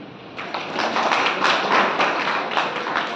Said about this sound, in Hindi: तो इस बहुत अच्छे कदम के लिए एक बार जोरदार तालियां